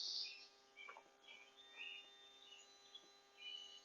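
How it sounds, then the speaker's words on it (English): Faint wild bird chirps and song phrases scattered through quiet woods at night, soft and somewhat distant, with no talking. "can you guys hear the birds?"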